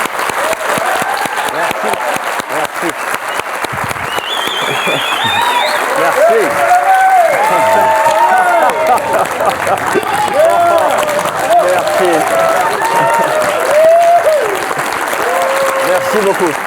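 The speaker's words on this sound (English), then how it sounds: "je vous demandais de faire un tonnerre d'applaudissements pour Daniel Brühl" Thunderous applause from a masterclass audience welcoming actor Daniel Brühl, dense continuous clapping swelling after a few seconds and sustained loud throughout, with voices and a few cheers mixed into the crowd.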